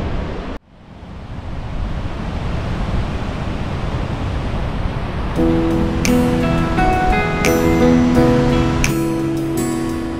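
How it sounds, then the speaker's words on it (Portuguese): Ocean surf washes continuously onto a beach at Viana do Castelo on a calm day, a broad steady hiss of breaking water with wind, joined midway by soft sustained musical tones. "E hoje não está agitado as ondas."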